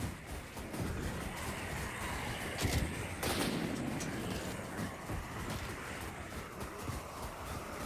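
Rapid bursts of gunfire in a zombie survival video game, dense and continuous with a sharp louder crack partway through, layered over a steady roaring game soundscape.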